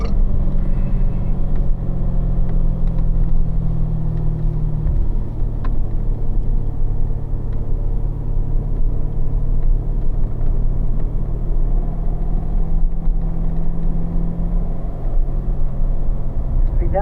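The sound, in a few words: race cars in 4th gear on cool down lap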